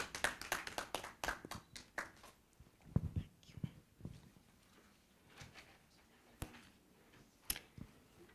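Scattered, fairly faint hand claps from an audience at a scholarship launch event, briefly dense at the start, then thinning into sparse, irregular single claps.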